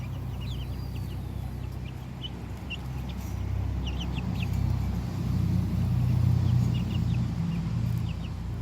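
Small, pretty Sapphire Gem chickens give soft, scattered clucks and short calls. They are faint and somewhat distant over a steady low background rumble.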